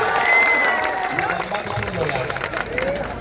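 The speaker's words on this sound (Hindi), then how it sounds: "तब ताली बजाने का टाइम आ गया" Political rally crowd breaking into applause, a broad wash of clapping and cheering that rises under a speaker's amplified voice.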